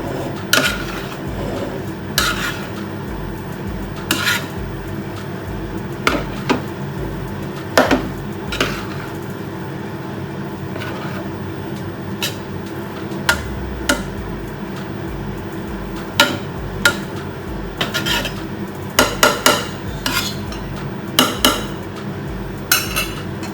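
A spoon scrapes and clinks against a metal pot while fish rice with coconut is stirred, with intermittent sharp taps over a steady low background hum and no talking.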